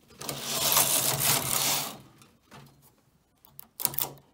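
A knitting machine carriage sweeps across the needle bed to knit a row of a lacy ladder pattern, making a loud whirring rush for about two seconds, then a few short clacks and knocks.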